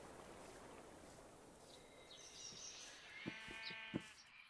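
Sheep in the Minecraft video game bleat faintly a couple of times over a steady background hiss, the calls short and wavering near the end.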